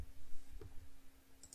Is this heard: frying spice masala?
no